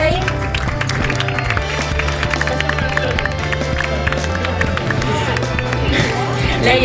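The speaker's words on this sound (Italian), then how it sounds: "vi chiederei un altro grande applauso anche per lei" Audience applause at a beauty pageant, a dense wash of claps and crowd noise rolling continuously under music and a spoken voice.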